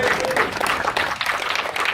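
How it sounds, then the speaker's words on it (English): Brief burst of scattered audience clapping and applause at a Victory and Indian motorcycle showroom opening, moderately loud and steady for a couple of seconds with faint crowd murmur. "That was where you clapped"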